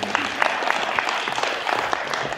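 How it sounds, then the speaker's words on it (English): An audience at a comic con actor panel claps in a steady round of applause, dense continuous clapping with no voices over it. "Megan Cassidy, round of applause for her, please."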